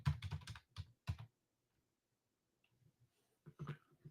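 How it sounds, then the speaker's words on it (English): Quick bursts of typing on a computer keyboard, a flurry of clicks and then a pause before a few more keystrokes, close and fairly quiet with no talking. "I'm going to type in Argentina first."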